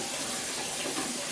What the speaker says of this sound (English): I'm going to go ahead and turn on my hot water